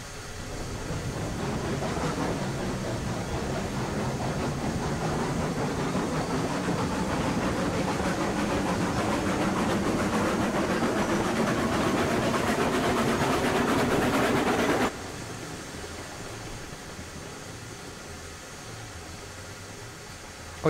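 A moving train in Railroads Online rolls along with a steady rumbling, clattering roar that suddenly drops to a quieter hum partway through.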